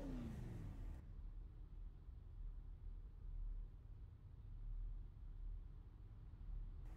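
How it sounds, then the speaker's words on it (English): Super Late Model stock car engines rev in a steady droning rumble in a racing video game, waiting on the grid at Five Flags Speedway, a continuous low whir with gentle swells. "You can hear them definitely revving the motors and getting ready to go."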